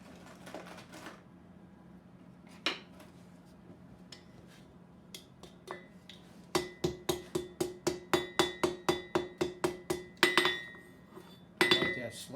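A blacksmith hammers hot metal on an anvil while forging a decorative rose. A few scattered taps lead into a fast, even run of about a dozen bright, ringing blows, followed by a short pause and another quick burst of strikes.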